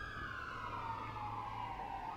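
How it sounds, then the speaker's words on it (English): An ambulance siren wails faintly in the background, one long tone gliding slowly downward, distant and steady with no voices over it. "I feel like with the ambulance in the background,"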